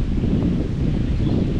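Steady, strong wind roars and buffets the microphone, a continuous low rumble with a faint rustle and no pauses.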